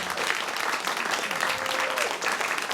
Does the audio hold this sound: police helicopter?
no